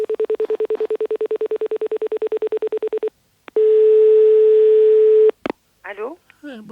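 Telephone line tones while calling the police: a long run of rapid pulsing beeps, a brief gap, then a steady sustained tone that cuts off, followed by a short burst of chirpy electronic noise and a voice.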